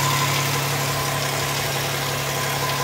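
The 2.7 liter engine of a 2003 Hyundai Santa Fe idles with a steady, even hum and faint mechanical vibration, heard close and alone.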